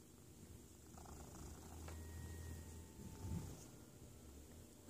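A cat purrs softly and continuously up close, a low steady rumble in a quiet indoor room, with no talking.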